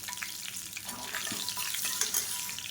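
Mustard seeds, urad dal, fenugreek, dried red chillies and curry leaves tempering in hot oil for tiffin sambar, with a bright crackling sizzle and scattered pops, close and steady, no talking.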